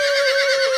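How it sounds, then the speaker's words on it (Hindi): A horse neighs in one short, loud, tonal whinny with a wavering pitch that lasts under a second, alone and close. "घोड़ा।"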